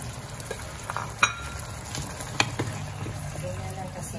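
Eggplant frying in sambal in a pan, a steady close sizzle with occasional scrapes and clacks of a utensil stirring, plus a couple of sharper knocks.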